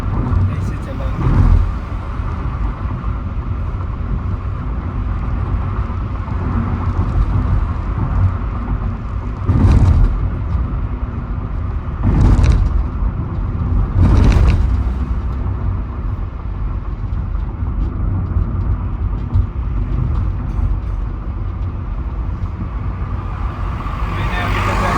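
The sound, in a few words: car driving on road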